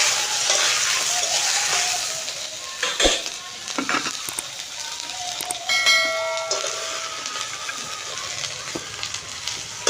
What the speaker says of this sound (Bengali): এই টমাটোগুলো কড়াইতে একটু নেড়ে চেড়ে নেব